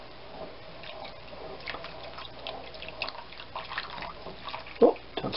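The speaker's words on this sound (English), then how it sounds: "we stir in our cornstarch liquid" Cornstarch liquid stirred into red wine pot roast braising liquid in a pot, giving soft, close, wet sloshing and dripping sounds with a sharper splash near the end.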